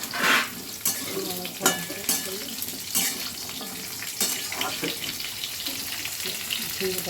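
Potatoes frying in hot oil in a pan, a continuous sizzle punctuated by repeated scraping stirs and pan knocks at irregular intervals, close-up with no talking.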